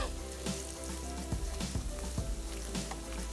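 Onions frying in a pan, a steady close sizzle with a few soft stirring scrapes, no talking.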